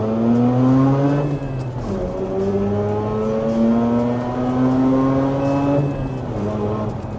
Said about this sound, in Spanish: vamos a hacer el primer pata a fondo de un motor rotativo en mi canal